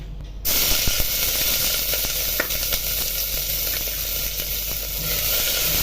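Crushed ginger, garlic and green chili sizzle and crackle steadily in hot oil for a masala mutton gravy, a continuous close frying hiss with scattered pops and stirring clicks, no voices.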